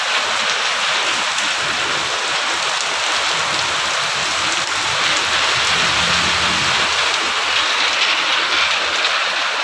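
Heavy rain pouring down steadily during a downpour, a dense, loud, continuous hiss of drops on surfaces with no talking.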